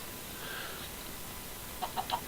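Three short chicken clucks from a Minecraft Stoneblock game, coming near the end over a steady low hum with no one talking.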